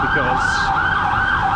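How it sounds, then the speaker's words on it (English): An ambulance siren wails steadily and loudly throughout, its pitch sweeping up and down, with a brief spoken word near the start. "Ambulance is a little annoying."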